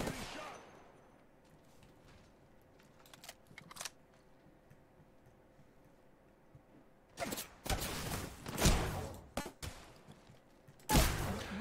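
Bursts of automatic gunfire from the Apex Legends video game, loud dense volleys in the second half after a quieter stretch of scattered shots and background game noise.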